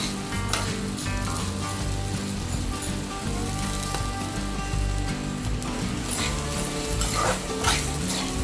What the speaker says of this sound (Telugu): ఇలా ఈ కలర్ వచ్చేంత వరకు వేయించుకోవాలి